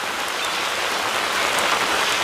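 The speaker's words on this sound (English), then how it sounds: "now it's raining" Heavy rain pours down on dinghies parked on trailers, a dense, steady hiss of drops drumming on the boats with no gaps and no voices.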